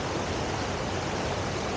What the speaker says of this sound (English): without too much water noise to interfere with the audio